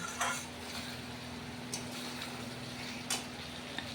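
Spices being stir-fried in a kadai with oil for an egg and potato curry, a steady low sizzle with a few sharp scrapes of the spatula against the pan, close and continuous with no talking.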